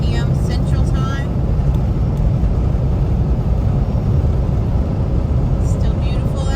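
A car cruising a Texas highway on a hot June afternoon, with a steady, loud rumble of engine and road noise heard from inside that holds unchanged throughout.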